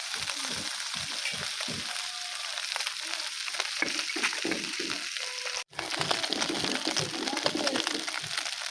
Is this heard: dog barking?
no